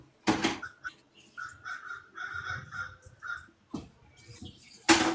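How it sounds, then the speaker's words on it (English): Crows caw outdoors in a run of harsh repeated calls at moderate distance, a few louder bursts of noise breaking in at the start and end. "I think that's why the crows are getting mad."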